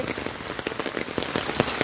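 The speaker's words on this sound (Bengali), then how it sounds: "মুসলধারে বৃষ্টি হচ্ছে" Heavy rain pours down steadily in a suburban residential street during a flood, a dense, even hiss of drops striking surfaces, close and continuous with no voices.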